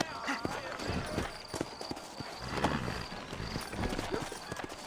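Horse hooves clip-clopping at a steady walking pace in Red Dead Redemption, close by, with a voice talking over them.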